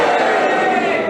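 A studio audience of a panel game cheers and boos all at once in a loud, dense crowd roar that holds steady through the whole short burst.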